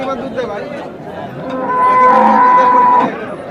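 A loud, drawn-out dairy cow moo swells and fades near the end, over background crowd chatter at the outdoor Hazratpur cattle market.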